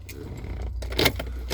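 Keys jingle and clink in short bursts against a low engine-like hum, nearby and moderately quiet.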